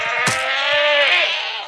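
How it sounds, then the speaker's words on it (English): A screaming goat in Minecraft lets out one long, loud, wavering bleat up close, with a brief crunchy chewing sound just before it. "Eat up, screaming goat."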